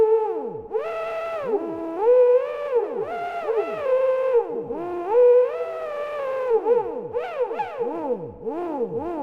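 Gliding, pitch-bending synth tones from a free vox-type VST plugin play a bouncy melody with slides between notes, clean and upfront, no talking.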